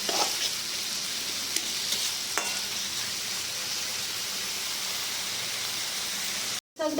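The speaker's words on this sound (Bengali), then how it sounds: "একটু ভাজা ভাজা হোক।" Saag greens frying in hot oil give a steady, close sizzle with a constant crackle throughout, broken by a brief silent gap near the end.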